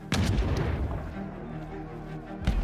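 Cannon fire on a nineteenth-century battlefield: a loud booming blast opens, a long rumbling roar follows, and a second sharp report lands near the end.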